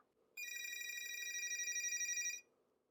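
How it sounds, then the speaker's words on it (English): An electronic telephone bell, driven by a SLIC circuit, rings in one continuous burst of about two seconds, bright and buzzy, then stops against near silence. "I set up a button here to start ringing the phone."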